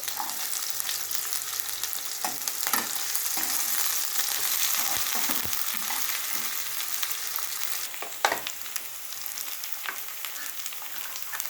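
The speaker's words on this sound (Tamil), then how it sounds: "இப்போ கொஞ்சம் பூண்டு போடணும்." Garlic fries in hot oil in a continuous close sizzle, broken by scattered pops and a few stirring knocks, one sharper clatter standing out partway through.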